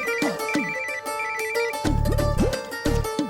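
A phone rings with a call from a private number, its electronic ringtone repeating in quick melodic bursts, loud and close, with nobody speaking.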